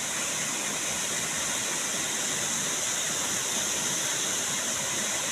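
A waterfall roars with a constant, loud, broad rush of falling water, heard close and unbroken throughout, with no voices.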